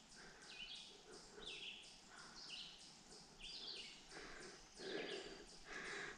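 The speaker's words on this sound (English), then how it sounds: "Nothing but the birds, man. Nothing but the birds." Birds chirp and call repeatedly beside a quiet pond on the Appalachian Trail in New Hampshire, bright short tweets and trills coming from a distance and sounding faint against a calm, hushed background.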